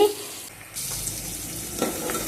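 Bitter gourd sizzles and crackles in a hot pan while it is stirred, with scraping and a burst of louder frying near the end.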